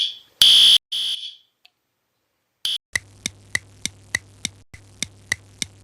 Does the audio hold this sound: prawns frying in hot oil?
no